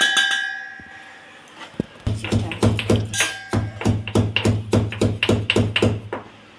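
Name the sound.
pounding herbs lightly for kashayam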